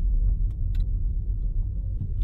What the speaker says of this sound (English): This car's going in reverse.